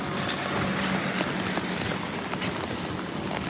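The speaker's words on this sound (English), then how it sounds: "that's some good winds coming in right now" Strong tropical storm wind with gusts near 20 mph buffets the microphone in a steady rushing roar with brief gusty surges, loud and close, no voices.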